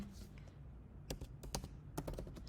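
Quick bursts of keystrokes on a computer keyboard entering a trading symbol, close and distinct, clustered clicks after a brief quiet start with no talking.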